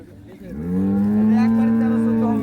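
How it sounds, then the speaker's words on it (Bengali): A single long, loud moo from a Holstein Friesian dairy cow, rising and holding steady for about two seconds, close by, with no talking. "গাভী এবং বাছুর"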